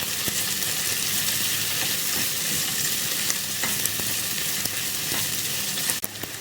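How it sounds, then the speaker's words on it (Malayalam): Dried red chillies and softened onion fry in a pan for paneer butter masala, giving a loud, steady sizzle with stirring scrapes and a sharp clack near the end, no voices. "ഇതിൻ്റെ കൂടെ നമുക്കൊരു 3 വറ്റൽമുളക് ചേർത്ത് കൊടുക്കാം."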